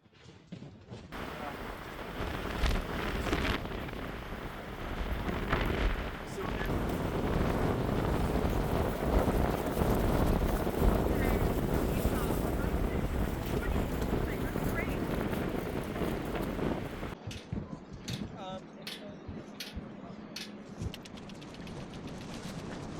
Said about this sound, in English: It's windy, huh? It's got to be windy, yeah.